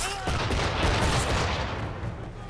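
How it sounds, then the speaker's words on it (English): Sustained volleys of enemy gunfire in Assassin's Creed 3, a dense, loud, continuous crackle of shots with no clear gaps between them. "Can you please stop firing?"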